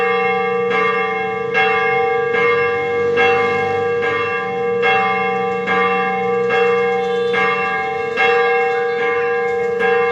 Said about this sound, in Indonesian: HKB Tarutung Kota membunyikan lonceng supaya pemadam kebakaran